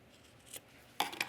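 Scissors snip off excess fabric while sewing a sports bra, a soft faint cut near the middle, then a louder cluster of crisp snips and rustling toward the end.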